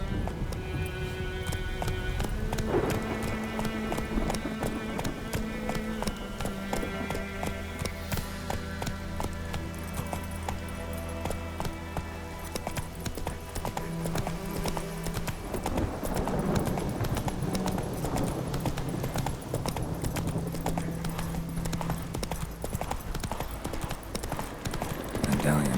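Roach the horse gallops in The Witcher 3, with steady rhythmic clip-clop hoofbeats running throughout under a layer of game music and occasional talk.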